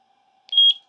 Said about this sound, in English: Hear that beep? That means it's going to start to connect.